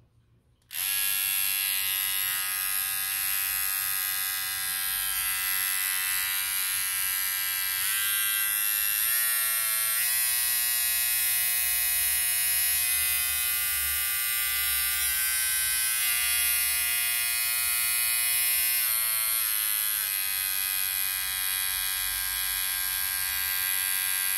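A Kemei electric hair clipper, noisy after being dropped and running at 20% battery, buzzes loudly and steadily at close range, its high whine wavering slightly in pitch as it runs continuously.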